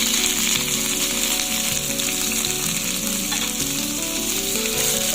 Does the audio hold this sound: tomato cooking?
yes